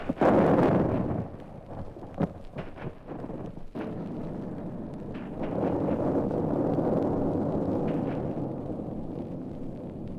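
Cannon salvo fired from a ship at a fort in a radio drama: a heavy booming blast up front, then scattered sharp reports and a long rumbling roll that swells again and lingers, with no voices.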